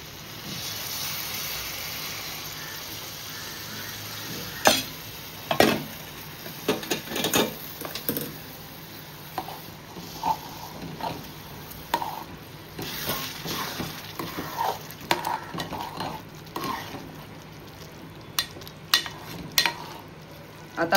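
Prawn curry is stirred into cooked rice in a pan: a steady soft sizzling hiss is broken by irregular scraping and clinking strokes of the spoon, with no talking.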